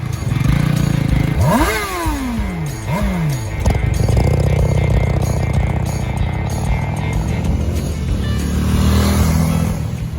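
A Honda Rebel motorcycle, a 2019 Rebel 300 or 2022 Rebel 500, revs loudly up close with two sharp rising-and-falling throttle blips, then settles into a steady running drone with road and wind rumble.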